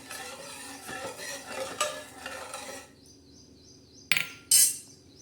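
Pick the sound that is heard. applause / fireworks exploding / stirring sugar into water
stirring sugar into water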